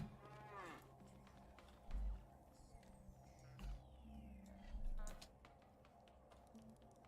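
Cow lowing in the Scrap Mechanic video game, several deep moos spread over a few seconds, heard amid faint mechanical clicks and ratcheting game sounds.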